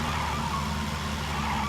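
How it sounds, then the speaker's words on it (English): A UAZ off-road car in PUBG drives and drifts with a steady, continuous engine drone and broadband road rumble throughout, fairly loud and close, with no talking. "Let's see if we can hear what this UAZ sounds like."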